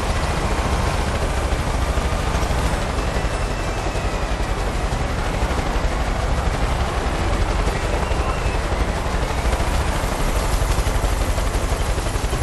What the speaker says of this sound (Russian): Блять, опять вертолет.